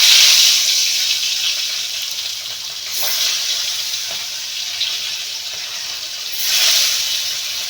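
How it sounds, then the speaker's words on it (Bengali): Tengra fish frying in hot oil in a home kitchen, a steady bright sizzle and hiss that runs throughout, swelling louder around three seconds and again near the end, with no talking. "তো আমার মাছ ভাজা হচ্ছে।"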